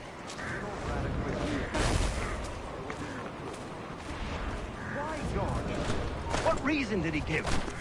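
Cannons fire in Assassin's Creed 3 as heavy, rumbling booms over a dense battle din, with a few stronger blasts standing out and voices talking throughout.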